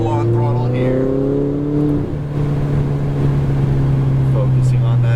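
A Ferrari 488 GTB engine hums loudly and close, its tone shifting as throttle comes on out of a corner. It settles into a steady, strong drone, with a voice speaking over it.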